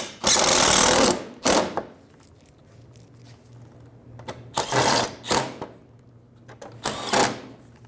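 A power tool snugs down bolts while a splash shield and fender liner are installed on a 2000–2007 vehicle, sounding in three or four loud, short bursts with quiet pauses between them.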